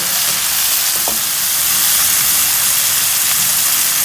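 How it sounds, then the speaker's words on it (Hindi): Tomatoes and green chillies sizzle and fry in a pan for an egg curry, a steady broadband crackle throughout with a brief clink of a utensil near the start, no talk. "टमाटर और हरी मिर्ची डाल के ना 3 मिनट तक पकाना है इसे"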